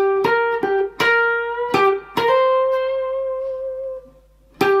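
Clean electric guitar slowly playing the opening line of a 12-bar blues solo in C, a few plucked notes and a short pair followed by a long sustained note that rings out and fades before one final attack; close, solo, no voices.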